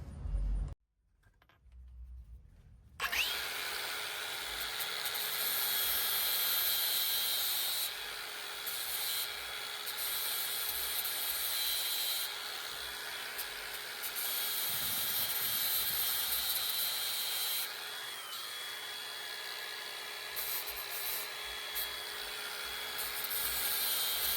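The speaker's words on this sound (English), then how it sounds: "we're gonna have to keep going and shave that off a little bit just so we can get it to clear the little spacer" A power tool grinds metal off a Z1 shock skid plate on a ProjectD40 vehicle to clear a spacer, a loud sustained high-pitched whine running nearly continuously with brief dips, starting after a short quiet moment.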